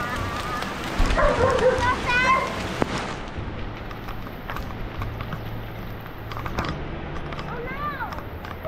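Steady rain falls in Cavite, Philippines, a dense hiss on surfaces running throughout, while people talk over it at moderate distance and a few brief chirping sounds rise briefly.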